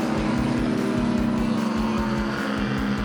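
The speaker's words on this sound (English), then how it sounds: "You can hear the turbochargers spooling." The race boat Warlord roars past on a river course with a loud, steady engine drone and a high whine from its turbochargers spooling, with a pulsing low rumble throughout.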